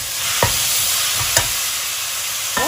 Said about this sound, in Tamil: இப்போது தக்காளி போட்டுக்கலாம்.